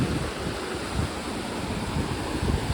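Sea waves wash onto the shore at Dwarka as a steady, broad rushing roar mixed with wind buffeting the microphone, with no clear individual breaks.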